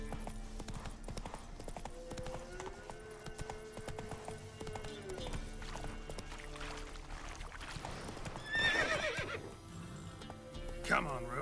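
Roach the horse in The Witcher 3 neighs and gallops with steady clip-clop hoofbeats, with a louder whinny near the end, set among game music and ambience, while someone talks briefly.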